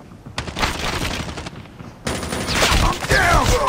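Rapid gunfire fills a Call of Duty firefight, dense automatic bursts broken by a short pause, then heavier, louder volleys close by.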